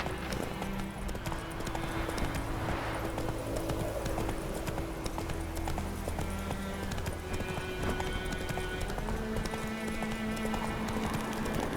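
Steady clip-clop of horse hooves at a walking pace with a faint whinny, over a continuous music bed, in the video game The Witcher 3.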